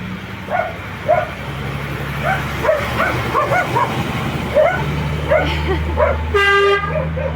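A dog barks repeatedly and excitedly as a car passes nearby, ending with a loud horn honk.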